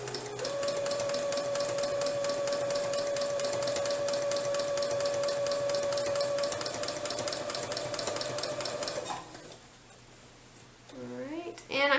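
Small domestic sewing machine quilting, a rapid, steady mechanical stitching rhythm with a sustained tonal whine, running loud for about nine seconds before stopping, then a voice speaking at the end.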